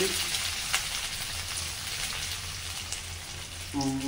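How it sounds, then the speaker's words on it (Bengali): Chopped onions, ginger and garlic frying in oil give a steady, close, dense sizzle throughout, with a brief tonal sound near the end. "আর এখানে কুচি কুচি করা পেঁয়াজ ভেজে নিচ্ছে"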